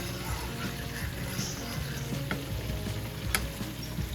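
Rasta pasta sauce with jerk seasoning and cheese cooks in a pan, a soft steady sizzle with occasional stirring scrapes and clicks close by, with no talking.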